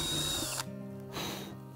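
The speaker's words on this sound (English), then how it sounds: "I'm gonna just drill a hole on the inside of the heart, just kind of close to the edge" A power drill with a large bit bores a hole near the edge of a heart shape being cut out for a jigsaw blade, a loud steady whine that drops off partway, then revs up again.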